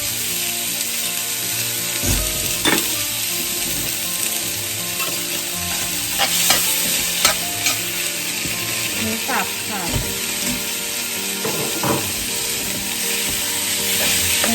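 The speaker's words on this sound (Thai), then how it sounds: "ผัดทุกอย่างให้เข้ากันนะคะ" Bitter melon and other ingredients sizzle and crackle as they are stir-fried with oyster sauce in a hot pan, a loud steady frying hiss broken by scraping stirs and clicks of the utensil.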